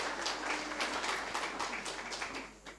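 A church congregation claps together during a Sunday service, a dense, steady wash of applause that runs the whole time without a break.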